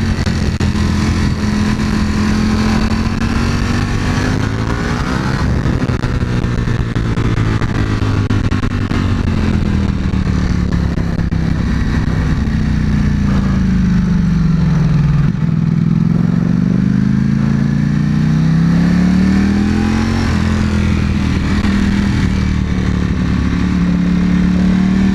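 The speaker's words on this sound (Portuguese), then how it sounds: "Cara, olha como essa moto é bruta!" Ducati Panigale V4 S engine on a test ride, a loud continuous high-revving roar that rises and falls through gear changes, close and dominant with no talking.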